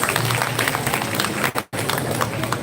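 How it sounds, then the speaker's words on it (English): An audience at a national-level MBA fest applauds the prayer song singers, sustained clapping that briefly cuts out mid-way before resuming just as loud. "Please give them a big round of applause."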